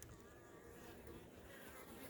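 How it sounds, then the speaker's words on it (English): Bees buzzing inside a wooden beehive, a dense steady drone of many insects heard up close through the open box, constant and fairly quiet with no voices. "Still a good number of bees in there"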